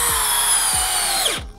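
A DeWalt 12V cordless drill drives a 3.5 inch fastener with a loud, close, continuous high motor whine, repeated low thumps as the screw bites, and an abrupt stop at the end.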